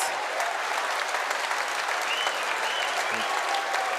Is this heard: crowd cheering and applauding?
yes